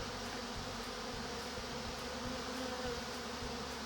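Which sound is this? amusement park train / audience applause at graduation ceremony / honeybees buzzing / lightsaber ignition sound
honeybees buzzing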